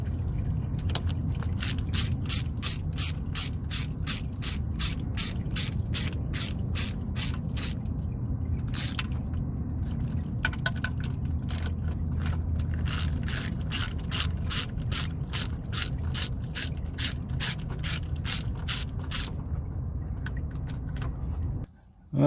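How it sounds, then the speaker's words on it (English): A ratchet working 10 mm transmission pan bolts loose on a 2012 Toyota Corolla, with long runs of rapid, even clicks, close and moderately loud over a steady low hum and occasional pauses. "I'm going to start to break loose all these 10 millimeter bolts all the way around"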